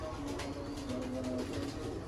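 Pigeons coo softly and repeatedly, layered low burbling calls close by, over a dense noisy rooftop background.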